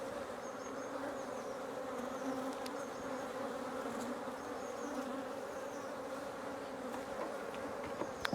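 Honeybees buzz steadily around an open hive during beekeeping, a dense continuous drone from many insects close by, with a few individual bees whining past and no talk.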